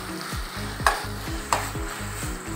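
Red chili powder being stirred into a pan of upma on the stove, a steady scraping stir under a soft sizzle, with two sharper spoon knocks against the pan.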